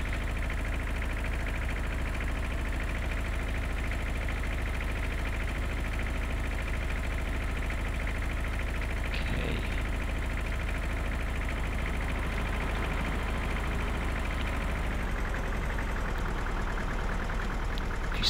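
Tractor and combine harvester engines in Farming Simulator 2013 drone in a steady, loud, unbroken mechanical hum with a constant low rumble and faint brief clicks, no talk.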